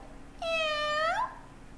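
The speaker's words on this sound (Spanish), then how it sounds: "ya terminamos de escuchar el sonido de estos animales. Del gato" A cat gives a single clear, drawn-out meow lasting just under a second, loud and close against a quiet background.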